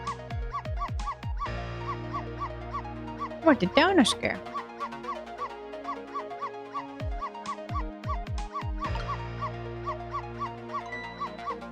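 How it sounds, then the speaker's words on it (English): A small dog in a video game yips and barks repeatedly in quick bursts over looping game music, with a brief louder flurry in the middle and a voice speaking. "if you bark like that, you'll make the lady next door start howling"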